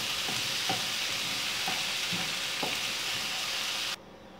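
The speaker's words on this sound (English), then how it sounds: "we can add the tomato and let it cook for 5 more minutes" Onion, ginger, garlic and tomato cooking in a pan, giving a steady hiss of frying with a series of soft stirring knocks. The sound is close and continuous and cuts off abruptly near the end.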